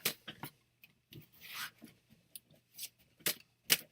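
Tarot cards being shuffled during a reading, giving a series of short papery riffles and rubbing flicks in separate bursts, close and fairly quiet, with no talk over them.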